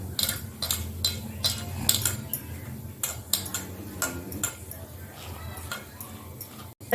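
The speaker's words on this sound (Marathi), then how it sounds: "आपण इथे 2 टेबलस्पून कॉर्नफ्लॉर आणि 2 टेबलस्पून बेसन घेतलेलं आहे। 1 अंडा सुद्धा फोडून घेतलंय आपण। त्यापैकी आपण हे मिक्स करून घेऊया।" Cornflour, besan and a cracked egg are whisked together in a bowl as batter for crispy mutton chops, giving repeated clinking and scraping strokes in a steady rhythm, close and moderately loud.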